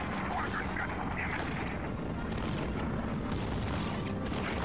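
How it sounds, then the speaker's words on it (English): Twin machine guns on a fighter plane in Heroes of the Pacific, a steady dense roar of rapid fire blended with engine drone throughout, loud and continuous, with some voice faintly underneath. "look at all the damage we're doing with this 2 machine guns"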